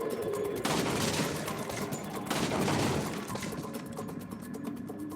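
Rapid bursts of gunfire from VR gun-training target practice in the game Resident Evil 4, sharp repeated shots clustered into two dense volleys with quieter clicks between, no voices.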